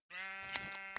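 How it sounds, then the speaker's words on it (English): A sheep bleats once in a video game, a short, clear, nasal bleat lasting under a second, close and alone with a few small clicks over it. "We have ourselves some sheep."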